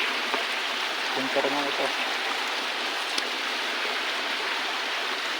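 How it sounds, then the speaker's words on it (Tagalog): A small waterfall flows steadily, a continuous rushing wash of water that stays even throughout, while someone speaks briefly over it. "Tapos may waterfall."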